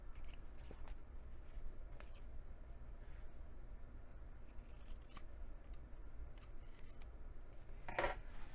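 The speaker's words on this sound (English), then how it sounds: "if you happen to have any overhang anywhere else, trim that now as well" Scissors trim fabric overhang on a handmade sewn wallet: faint, sparse snips spread over several seconds, with one sharper, louder cut near the end, in a quiet room.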